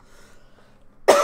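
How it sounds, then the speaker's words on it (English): A single sharp, loud cough bursts out close to the mic near the end of an otherwise quiet moment during an Old School RuneScape gaming session. "did have a little cough there"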